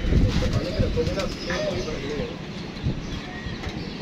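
Pigeons coo steadily on a rooftop, their soft, repeated calls fairly close, with people talking in the background.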